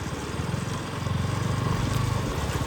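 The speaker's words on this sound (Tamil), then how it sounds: "இப்போ இந்த தண்ணியிலே தான் வண்டி ஓட்டி ஆகணும்." A motorcycle ridden through a stream on a monsoon ride to a waterfall, its engine putting out a steady, pulsing low throb close up that picks up slightly midway, mixed with broad splashing noise.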